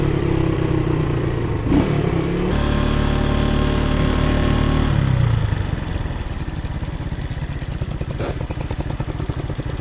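A Keeway CR152 motorcycle rides off a steep hill onto gravel on a New Zealand adventure ride. The engine is loud and close, with a steady drone that gives way to a rougher, pulsing putter as the tyres meet the gravel.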